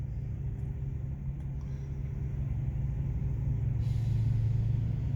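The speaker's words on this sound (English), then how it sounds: "Old long-nosed Peterbilt." The engine of an old long-nosed Peterbilt truck gives a steady low diesel rumble close by, and it grows slightly louder near the end as the truck passes.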